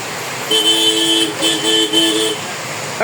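A car pulls up on a rainy street and sounds its horn in three close, loud toots, with road noise underneath.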